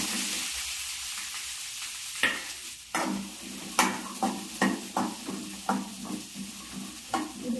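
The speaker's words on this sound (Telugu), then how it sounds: "ఇప్పుడు ఇదే ఆయిల్లో ఈ కలింకాయలు వేసుకొని ఫ్రై చేసుకోవాలి." Kalikaya (ivy gourd) frying in oil for a chutney, a steady loud sizzle broken by repeated stirring scrapes and clatters that quicken into a regular rhythm, with no talking.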